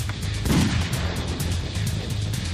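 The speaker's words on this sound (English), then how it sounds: "Green line rocket." A green line rocket firework bursting amid a dense, rumbling fireworks display, with a thudding boom early on over a continuous roar of crackle and distant explosions.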